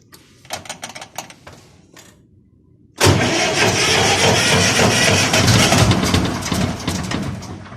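An Ursus C-330 tractor with a new battery is cranked; a few rattling starter bursts come first, then after a short pause the engine roars to life and keeps running loud and close.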